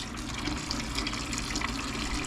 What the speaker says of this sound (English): we're going to drain the